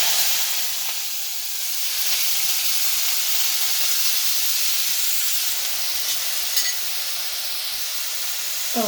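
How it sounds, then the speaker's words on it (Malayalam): Chopped onion flowers fry in hot oil for a Kerala-style thoran, producing a continuous bright hissing sizzle that holds steady at close range, with a couple of faint clinks and no voices. "നമുക്ക് ഈ എണ്ണയ്ക്കകത്തോട്ട് ഈ ഉള്ളിപ്പൂ അരിഞ്ഞത് ഇട്ട് കൊടുക്കും"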